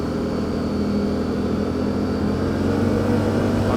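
Can-Am quad bike engine riding off-road, a steady loud motor drone with little change in pitch, continuous and close throughout.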